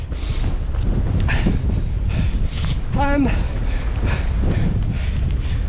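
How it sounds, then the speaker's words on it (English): Wind buffeting a microphone on a desert marathon training run, a loud, constant low roar with a few brief higher sounds over it, and no clear talk. "it's definitely wind against now"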